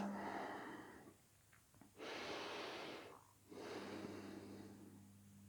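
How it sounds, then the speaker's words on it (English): Close, quiet breaths during a yoga stretch: a long airy exhale, a short pause, then two slow deep inhale-exhale cycles, soft and unhurried. "We're going to breathe here a few breaths."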